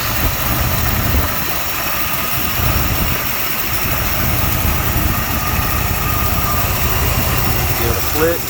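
Car engine idling steadily with the throttle flicked briefly, a constant low rumble with slight surges, close and loud, no talking.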